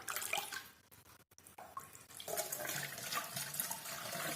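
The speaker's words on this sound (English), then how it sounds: "Now fill the bottle with water" Water running from a tap into a plastic bottle as it fills, a steady close splashing trickle that dips briefly near the start and then continues, with no talking.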